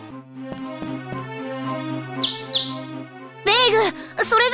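Bird calls in the video game Tales of Rebirth: short chirping tweets over steady game music, first a couple of brief high chirps, then a denser burst of warbling calls near the end.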